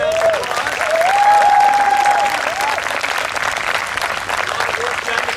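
An audience claps in sustained, dense applause at a San Jose community gathering, a full crowd sound that swells early and then holds steady, with a brief whistle or cheer near the start.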